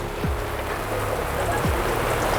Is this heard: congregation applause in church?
no